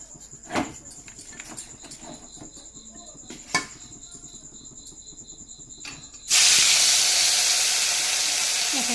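Marinated pieces dropped into hot oil burst into a loud, sustained broadband sizzle that starts abruptly after a few seconds of quiet kitchen taps and a steady high whine.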